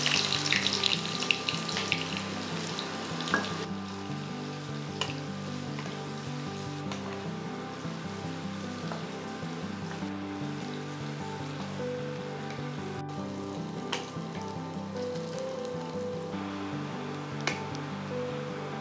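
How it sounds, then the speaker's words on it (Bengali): Two large chopped onions fry in hot oil and ghee with a continuous close, even sizzle that stays level throughout, sharper at the very start, with occasional faint clinks and no talking. "তেল আর ঘি গরম হয়ে গেছে। এবার এতে ভেজে তুলুন দুটি বড় পেঁয়াজ কুচি করে কাটা।"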